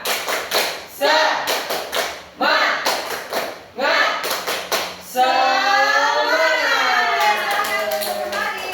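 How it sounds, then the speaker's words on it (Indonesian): Third-grade elementary class standing and doing a rhythmic spirit clap, bursts of sharp group claps and taps in a patterned beat, followed by a sustained voice near the end. "Tepuk semangat."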